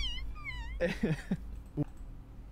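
Cat meows and caterwauling sounds from the Shadowclaw Bastet skin in the video game SMITE, a rising trill followed by several short, close meows spaced unevenly.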